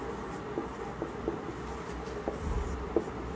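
Pen or pencil writing notes by hand, with steady faint scratching strokes punctuated by a few light taps over a continuous background hum.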